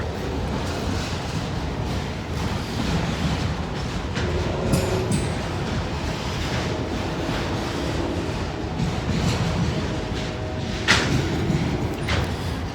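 A long freight train rolls steadily past, a continuous rumble with rattling cars and occasional knocks and clanks, staying loud the whole time.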